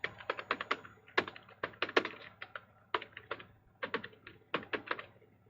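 Quick bursts of keystrokes on a computer keyboard, close and crisp, come in uneven clusters of taps separated by brief pauses, with no talking.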